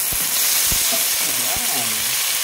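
Tomatoes sizzle steadily in a hot pan, a continuous loud frying hiss broken by a few soft clinks and a brief voice.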